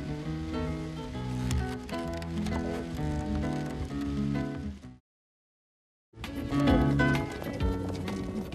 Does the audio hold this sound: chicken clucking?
no